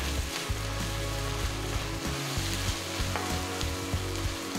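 A masala with ginger garlic paste for cashew paneer curry fries in a pan with a steady sizzle, while a spoon stirs it in repeated scraping knocks, close and fairly quiet.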